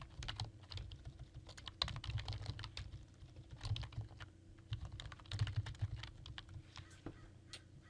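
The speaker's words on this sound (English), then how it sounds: "You can type in whichever keywords you want." Computer keyboard typing runs steadily throughout, a quick irregular patter of keystrokes entering search keywords, fairly close and fairly quiet over a low background hum, with no talking.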